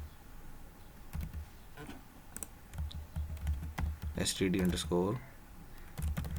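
Keys clatter on a computer keyboard as a column name is entered into a table, a loose run of soft close clicks under steady talk.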